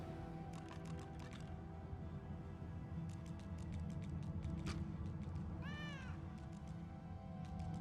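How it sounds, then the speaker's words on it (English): A cat meows with a rising, bending call amid the busy game soundscape of Divinity: Original Sin 2, heard clearly once over steady background music and ambience, with no talk. "I hear a cat."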